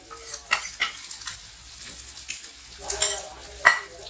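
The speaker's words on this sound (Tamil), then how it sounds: "இதையும் சேர்த்து நல்லா மிக்ஸ் பண்ணிக்கலாம்." A ladle of chicken gravy is stirred into an egg mass in a pan, with soft scraping spoon strokes and clinks over a light sizzle, close by and intermittent.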